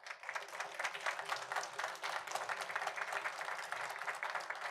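Steady applause from an audience at a school board of education meeting honoring students, a dense wash of many hands clapping at moderate distance, continuous without talk.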